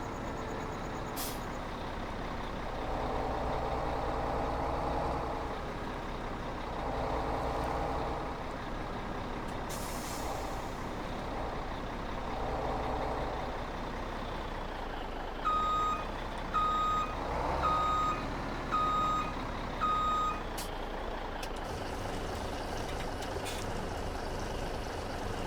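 An 18-wheeler tanker truck in Farming Simulator 2017 gives a run of evenly spaced reversing beeps over a loud, droning diesel engine, with an air-brake hiss partway through.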